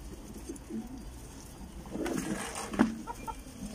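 Pigeons cooing softly at close range in a loft amid faint rustling and a few brief clucking sounds.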